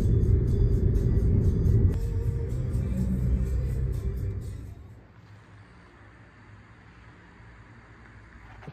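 A car rolling slowly at about 20 mph along a UK street gives a steady low rumble with some wind noise, loud for several seconds, then drops off sharply to a quiet, faint hum.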